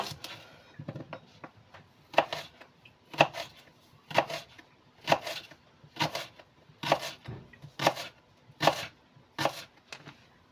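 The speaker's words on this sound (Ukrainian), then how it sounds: "Цибулю наріжу напівкільцем." Knife chopping an onion into half rings on a board, about ten crisp, evenly spaced cuts that come close and clear with no one talking.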